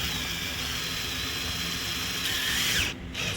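Power tool whirs continuously while driving bolts into a Cadillac Escalade rear door during a lock actuator replacement, a close, loud high-pitched whine that briefly dips near the end.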